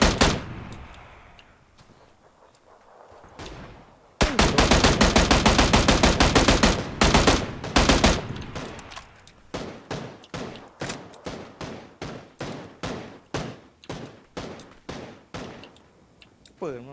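PUBG gunfire: a few scattered shots, then a dense burst of rapid automatic fire, followed by evenly spaced single shots, loud and close.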